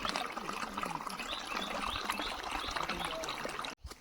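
Spring water trickles steadily out of a hillside at Abhapara hill station near Ghumli, a soft continuous close-up dribble that cuts off abruptly near the end.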